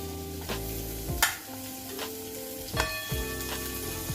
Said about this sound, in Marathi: तेल टाकायचे थोडं आणि कांदा भाजून घेऊयात गोल्डन चांगला कलर येऊ दे